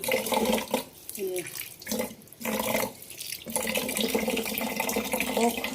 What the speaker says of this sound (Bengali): আমি খুব ভালো করে চালটাকে ধুতে থাকি